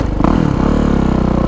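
A 2022 Kawasaki KX450SR dirt bike engine catches and settles into a loud, close, rapid idle, its thumping pulses steady after a brief start-up clatter.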